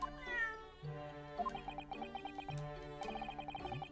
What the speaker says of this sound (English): Is that the same cat from Soseki's house?